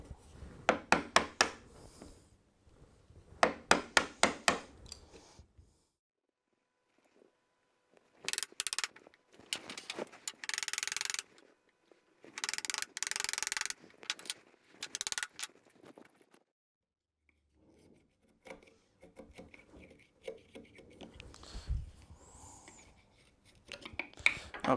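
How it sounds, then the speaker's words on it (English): Large chisel paring down hardwood to a marking gauge line on a hand-cut bridle joint tenon: bursts of crisp shaving and scraping strokes separated by quiet gaps, close and fairly loud, with no talk. "put your largest chisel in that marking gauge line"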